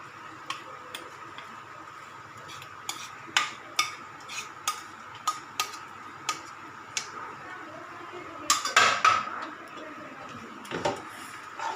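A spoon stirs pasta sauce in a pan, tapping the metal in a steady series of light, regular clicks, with a louder clatter of scraping near the end.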